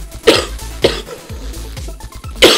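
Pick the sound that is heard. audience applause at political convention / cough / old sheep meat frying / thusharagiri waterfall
cough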